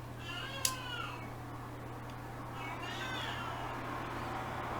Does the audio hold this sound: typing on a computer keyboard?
no